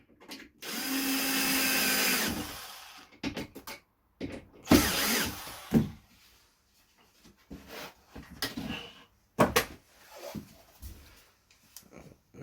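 A power drill drives screws into pilot holes in a wooden shoebox build, a few separate whirring bursts of varying length, close by, with quiet gaps and small clicks and handling noises between them.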